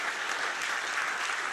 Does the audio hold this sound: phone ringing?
no